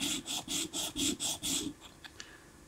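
Hand sanding of a wood block with 240-grit sandpaper: seven rhythmic back-and-forth rasping strokes, close and steady, then a few faint taps and rustles.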